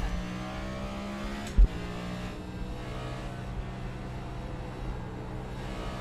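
Steady hum of a NASCAR stock car engine in a racing video game at Watkins Glen, driven on cold tyres; a constant low drone with one brief thump partway through.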